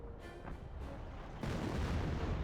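Priest self-propelled artillery barrage in Company of Heroes, a dense rumbling roll of distant booms that swells into a louder, sustained wash of blasts partway through.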